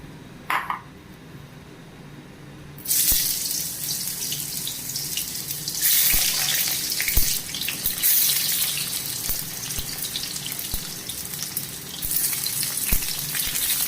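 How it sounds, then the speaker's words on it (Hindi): Tinda (apple gourd) frying in hot oil for a Sindhi tinde ki sabzi. After a brief quiet start, a loud, steady sizzling hiss fills the rest of the clip with no talking. "इसको टिंडा को पहले हम थोड़ा फ्राई कर लेंगे।"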